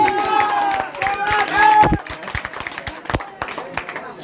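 Audience at a Diwali fair inauguration in Bhelwa panchayat clapping in welcome, a burst of applause that thins into scattered claps, mixed with talking.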